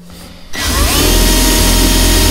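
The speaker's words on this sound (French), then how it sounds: "Vous percez en faisant tourner vite le forêt, mais sans appuyer." A drill bores into wood for a kalimba resonator, starting after a short quiet pause and then running as a loud, steady whine close by, spinning fast with little pressure.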